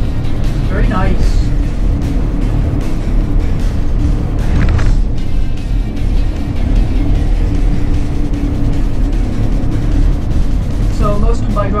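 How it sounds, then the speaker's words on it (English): Steady engine and road rumble from a car cruising along two-lane country roads in Northern California, a constant close drone with no clear breaks. "So most of my driving today seems to be on two-lane roads"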